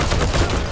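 Rapid, distant-sounding gunfire crackles in a short burst of overlapping shots during a military shooter game match.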